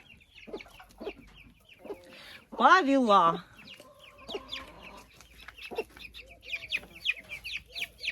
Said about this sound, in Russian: И вот квочка, курица, она еще квокчет